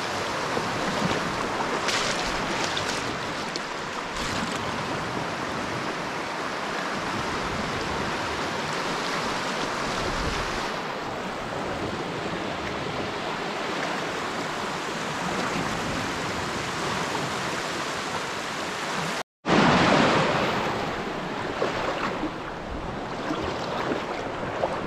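Lake Superior waves wash continuously at the Two Hearted River mouth in Michigan's Upper Peninsula, a broad steady rush with some wind buffeting the microphone and a brief dropout near the end.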